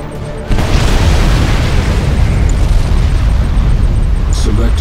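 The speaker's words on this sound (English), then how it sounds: "Nuclear missile launched." A nuclear missile strike in Command & Conquer 3 hits with an abrupt, heavy boom that rolls into a loud, sustained rumbling roar, lasting several seconds without easing.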